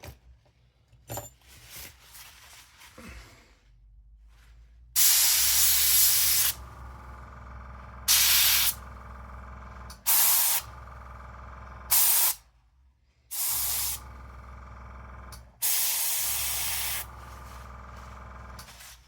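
A spray gun spraying MRP Aqua paint in a series of loud, close, steady hissing bursts of one to two seconds each, separated by quiet gaps and faint handling noises, with no talk.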